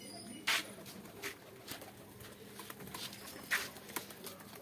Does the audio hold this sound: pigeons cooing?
yes